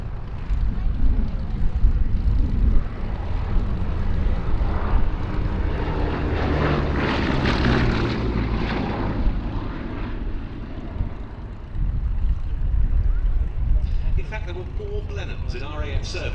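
Bristol Blenheim aircraft with a pair of Bristol Mercury engines drones steadily and loudly at a flying display at the Shuttleworth Collection, swelling as it passes, with someone narrating over it.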